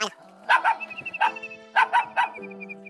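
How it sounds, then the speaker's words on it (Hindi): A dog barks on a forested trail near a waterfall in Shimla, giving loud, close barks in two quick clusters over a faint steady hum. "यहाँ कुत्ता है जो भौंक रहा है"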